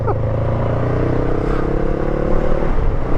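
A Honda NX 500 parallel-twin motorcycle with an aftermarket exhaust drones steadily while being ridden, a close, even engine hum with a slight rise in pitch and wind rush around it.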